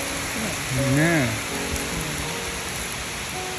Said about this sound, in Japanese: 雨ね、音すごいもんね。